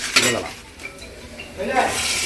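Chicken being stirred into a dish in a metal pot, with a scraping, clinking spoon against the pot over a light sizzle, in short close strokes.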